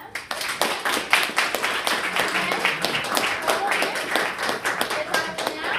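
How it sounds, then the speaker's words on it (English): An audience claps hands at a panel event on the local Black Church in the Civil Rights Movement, a dense, lively round of clapping that holds steady throughout at fairly loud volume. "let's clap our hands for them."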